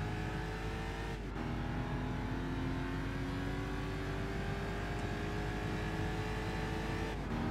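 A racing car in Gran Turismo 6 drifts through corners, its engine note droning steadily throughout with pitch sweeps as it slides, loud and continuous with no talk over it.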